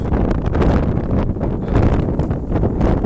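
Strong monsoon wind gusts by the water in rural Bangladesh where a man is fishing, a steady loud roar of wind buffeting the microphone with no break.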